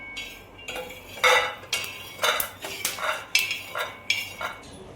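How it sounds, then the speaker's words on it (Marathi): Roasted peanuts are scooped out of a pan with a metal utensil, producing a run of close, sharp scraping clinks and rattles in an uneven rhythm, moderately loud and without speech. "शेंगदाणे भाजून झाले, शेंगदाणे काढून घेऊ"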